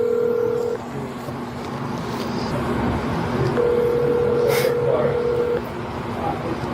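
A phone call rings out on speakerphone, with two long steady tones separated by a pause and background voices and room noise around them.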